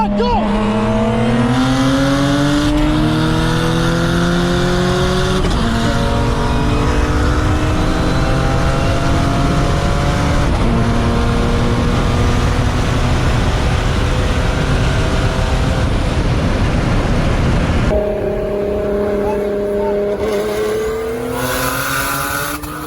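A 600-whp turbocharged Infiniti G35 pulls hard from second gear against an Audi S5, its engine revving up through the gears in rising loud sweeps with gear-change breaks, while a voice talks over it.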